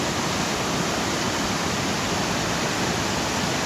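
A river rushing over a big jumble of rocks, a steady, dense roar of whitewater at close range with no talking.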